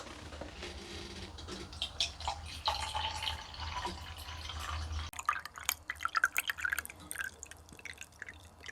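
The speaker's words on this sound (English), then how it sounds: "I'm just going to top that up with some apple juice." Apple juice is poured into a container for making country white wine, a thin trickle and irregular drips that grow into louder splashing bursts toward the end, with no talk.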